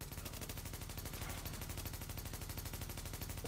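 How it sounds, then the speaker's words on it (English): Suppressing gunfire in The Division on Xbox One: a steady, fast rattle of automatic shots keeps going without a break the whole time, thick and constant at moderate loudness. "Suppression fire."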